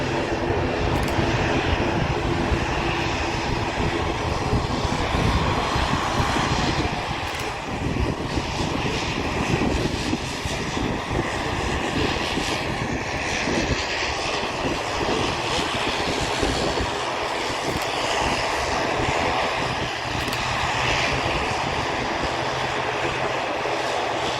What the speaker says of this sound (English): Boeing 737 MAX 9. This is the aircraft that had to do the overshoot due to the Virgin Atlantic A330 still being on the runway.